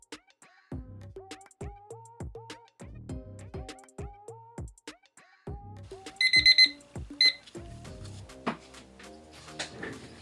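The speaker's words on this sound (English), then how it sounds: "have our 5-minute timer set." A 5-minute kitchen-style timer goes off with a repeating electronic alarm tone in short rhythmic bursts, followed by a few brighter beeps, close and clear with no talking, during domino painting with porcelain white paint.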